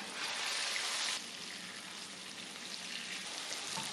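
Pieces of tofu fry in hot oil with a steady, dense sizzle that is louder at first, then settles into a softer, constant crackle with no talking.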